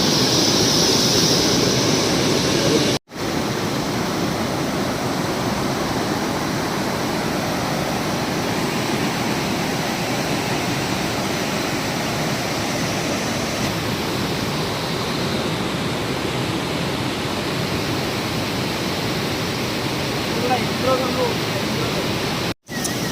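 Putudi waterfall in Kandhamal during the rainy season roars as a loud, steady broadband rush of falling water, continuous and close, with faint voices beneath the roar.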